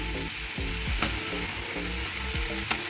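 Garlic lightly roasts in a pan for a chutney, a steady close sizzle accompanied by repeated rattling, ratchet-like scrapes of stirring, no speech.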